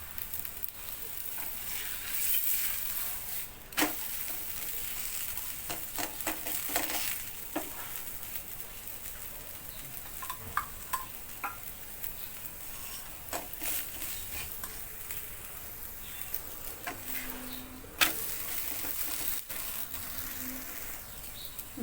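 Beetroot paratha fries in oil on a pan, giving a soft, steady sizzle dotted with scattered small pops and clicks, fairly faint and without speech.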